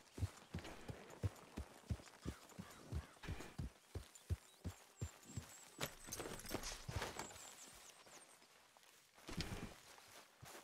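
Horse hoofbeats in the video game Red Dead Redemption 2, a clear, close run of rhythmic clip-clop steps that slows and thins out toward the end, with no talking.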